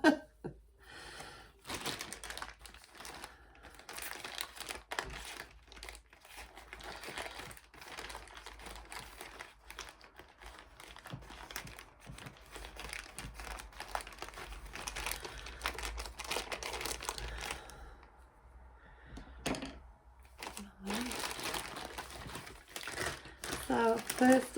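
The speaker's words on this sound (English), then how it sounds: "So I'm just going to open them now." Book parcels being opened with scissors, plastic and paper packaging crinkling and rustling in close, irregular bursts through the whole stretch, with snips and handling noise and some talk mixed in.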